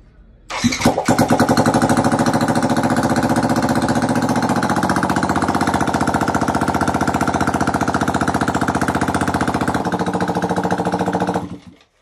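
An NMAX scooter engine cranks briefly, catches, and settles into a loud, steady buzzing run that continues for several seconds before cutting off abruptly.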